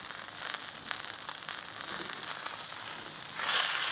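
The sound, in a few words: beef sizzling in beef tallow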